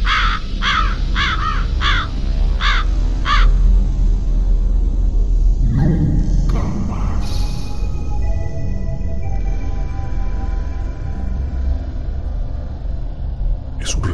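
A crow caws five times in a steady rhythm, loud and near, over a rumbling low background, followed by scattered clatter and faint tones in a Mexico City setting.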